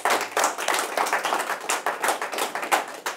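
Studio audience applauding on a talk show about gambling addiction, a brisk wave of clapping at moderate volume with rhythmic pulses running throughout.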